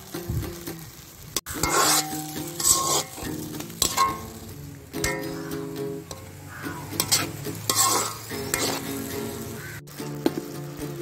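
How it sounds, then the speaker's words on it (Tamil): Tomatoes sizzling and sautéing in a pan for a papaya mutton gravy, with a spoon scraping and stirring in repeated strokes and occasional sharp clinks, loud and close. "இதை நல்லா வதக்கிக்கிங்க."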